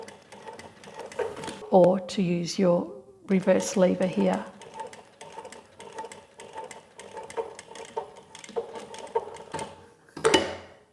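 An industrial walking foot sewing machine, Model 1903SX, runs in bursts of steady mechanical stitching, close and fairly loud, alternating with a person speaking between runs.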